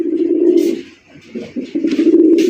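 A pigeon coos in close, throaty, rolling bursts, pausing briefly before cooing again.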